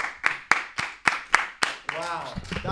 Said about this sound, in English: I need to clap